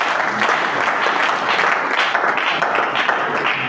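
A church congregation applauds steadily, a dense, continuous wash of clapping that fills the space evenly from start to finish, with no single voice standing out.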